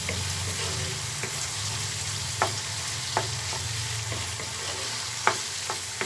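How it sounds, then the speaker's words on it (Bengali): Mutton is sautéed and stirred in a pan while being cooked down for a mutton chickpea ghugni curry, giving a steady sizzle with occasional soft scraping stirs. The spatula strokes come at irregular intervals. No one speaks. "মাংসটা আমার প্রায় কষানো হয়ে আসছে"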